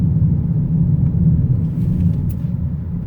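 Steady low road rumble and tire noise from inside a moving 2020 Toyota Corolla on Hankook tires, constant and fairly loud with no talking.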